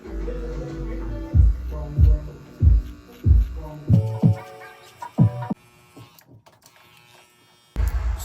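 Oster Fast Feeds hair clipper buzzing near the mic during a home self-cut fade, a steady hum broken by about eight rhythmic low thumps as the blade is flicked through the hair, then quieting before the buzz returns loudly at the end.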